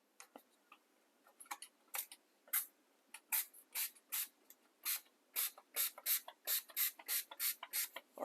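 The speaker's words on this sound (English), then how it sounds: "We're going to spray the NuVibrants all around the sink" A spray bottle pumped repeatedly, misting NuVibrants restorer onto a black granite sink: crisp, close hissing bursts, sparse at first, then a fast steady rhythm of many squirts in a quiet room.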